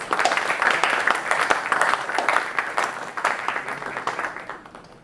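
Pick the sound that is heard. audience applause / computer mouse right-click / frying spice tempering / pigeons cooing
audience applause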